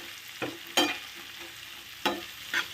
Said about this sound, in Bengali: এটা একটু 5-7 মিনিট মতো ভেজে নিই